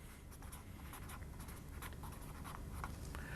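Chalk or marker scratching on a board during a college algebra lecture, a run of short faint strokes over a steady low room hum, with no voice heard.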